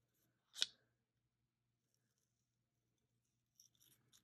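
Scissors snip once through sticker paper, a single crisp close cut in an otherwise quiet room, followed a few seconds later by soft paper rustling and handling sounds.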